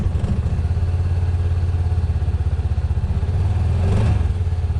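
A 2019 or 2020 Honda Pioneer 700 Deluxe side-by-side idles close by with a rough, pulsing low engine rumble and steady mechanical clatter, rising briefly near the end.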